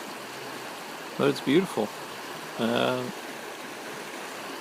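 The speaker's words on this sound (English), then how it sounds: "It's a channeled creek" Water flows steadily through a man-made channeled creek lined with riparian vegetation, a soft continuous rushing heard throughout, while someone speaks briefly over it.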